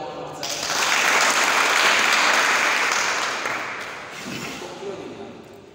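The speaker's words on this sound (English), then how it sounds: "we can clap for them" An audience claps for performers, a broad wash of applause swelling over the first few seconds and then slowly thinning toward the end.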